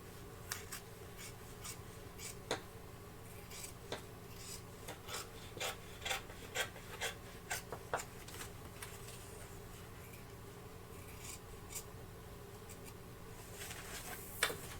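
Material for a handmade pack being trimmed, a steady series of soft rasping cuts that builds to a run of sharper strokes in the middle and one last louder snip near the end, quiet and close.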